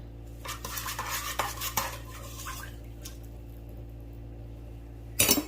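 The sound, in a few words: stirring sugar into bread ingredients with a utensil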